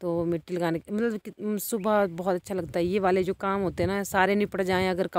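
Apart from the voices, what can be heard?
No distinct noise like a dog, phone or traffic.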